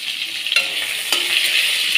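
Potatoes coated in turmeric fry with green chilies in a pan, a steady bright sizzle broken by a couple of sharp scraping clicks as the mixture is stirred.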